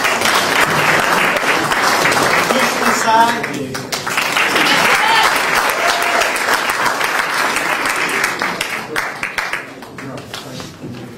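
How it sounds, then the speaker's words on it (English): Audience applause at a school board of education meeting, a sustained, loud wash of clapping that swells and then thins toward the end, with voices talking over it. "Big round of applause"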